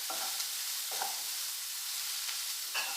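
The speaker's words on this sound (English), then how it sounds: "Saute this for a while till it becomes nice golden brown in color" Chopped onion and garlic sautéing in a pan, a constant close, bright sizzle with a few soft stirring scrapes at intervals, no talking.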